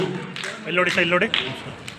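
Audience applause at a Kannada association ceremony at the Indian Institute of Science, celebrating Nadaprabhu Kempegowda's 516th birth anniversary; a short burst of clapping rises under a speaking voice that continues throughout.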